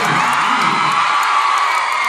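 A Thai fan meeting crowd in 2014 applauds six guests on stage with loud, sustained cheering and high-pitched screams over a constant wash of clapping, dense and close throughout.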